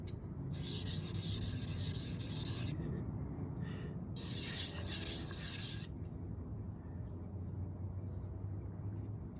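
A knife tip is drawn across a sharpening stone in two long, steady scraping strokes, close and clear, with a quieter rasping pass between them over a low background hum.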